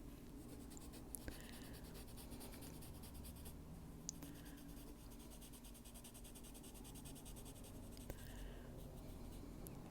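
A warm gray marker or pencil shading a rock on a coloring book page, a faint, close, steady scratching with a few brief tapping ticks as the tip is lifted and set down.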